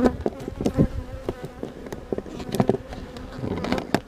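A dense swarm of bees buzzes steadily and loudly while being funneled into a hive, with the drone swelling and dipping and individual insects passing close.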